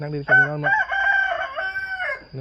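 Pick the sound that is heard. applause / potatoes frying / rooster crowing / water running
rooster crowing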